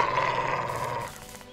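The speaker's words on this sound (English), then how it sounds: "Okay, wolf comes over, but he can't do anything but howl" A wolf in the video game Regalia lets out a short growling howl, loud and close, holding a steady tone for about a second before fading into a low rumble, with no talk over it.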